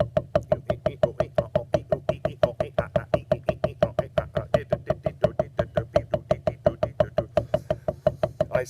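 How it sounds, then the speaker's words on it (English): Drumsticks playing a steady paradiddle with little or no accent, an even, rapid stream of crisp wooden strikes at a constant rhythm, close and clear with no talk over it. "Paradiddle, right, left, right, left, right, left, left."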